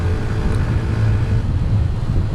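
Hero Xtreme 125R motorcycle engine running at steady high revs, a smooth continuous drone with an even, unbroken tone from start to finish and no voices over it.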